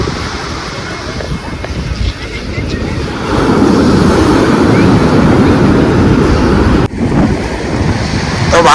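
Sea waves wash onto a seashore under gusting wind during a family picnic, a loud, continuous roaring surge that swells midway, with wind buffeting the microphone.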